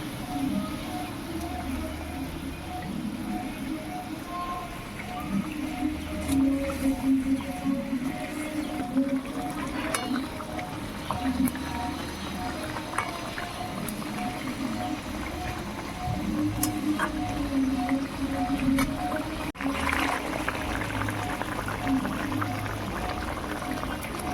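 A tangy, spicy tamarind curry with mustard for tomtom bhola fish simmers in a pan, bubbling softly and steadily at close range with occasional spluttering pops.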